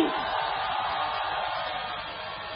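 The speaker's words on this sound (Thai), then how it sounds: "ขอเสียงพี่น้อง ด้วยโห่ร้องดังๆสักครั้งพี่น้องครับ" A crowd at a political rally against a coup at Royal Plaza in Bangkok cheers and roars loudly in a steady mass of voices that carries on without a break and fades only slightly.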